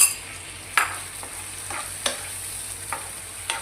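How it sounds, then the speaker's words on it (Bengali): A spoon stirs spice mix into onions frying in a pan for a do pyaza dish, a soft steady sizzle broken by several sharp scraping clinks of the spoon against the pan, close and without talk. "এই স্টেজে এবারে আমি এই যে মশলাটা আছে যেটা করে রেখেছিলাম তোমাদেরকে দেখালাম, এটা জাস্ট নাড়িয়ে এর মধ্যে দিয়ে দিলাম।"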